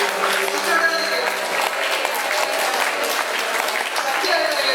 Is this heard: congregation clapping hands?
yes